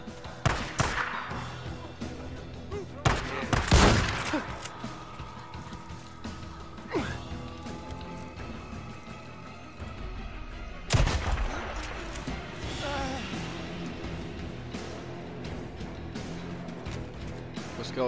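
Gunfire in the Days Gone video game: several sharp, loud shots and bursts spaced across the stretch, with a strong blast near the start and another midway, over game background noise.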